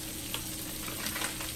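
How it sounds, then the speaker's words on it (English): Lamb chops searing in a little butter in a pan, a steady, dense sizzle close by with faint crackles throughout. "while we letting them sear."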